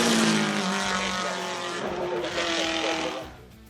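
A V12 race engine from a rare Le Mans homologation road car, one of only 25 built, howls loud and close with sustained harmonic drone, continuous throughout before easing off at the end.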